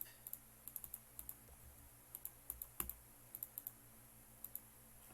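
Someone types on a computer keyboard at a Windows command prompt, producing sparse, crisp key clicks in small irregular clusters with pauses between them, close and clear over a faint steady background hum.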